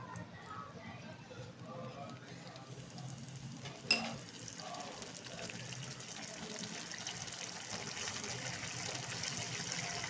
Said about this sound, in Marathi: एक 10 मिनटासाठी कोलंबी 10 ते 15 मिनटासाठी कोलंबी शिजत ठेवू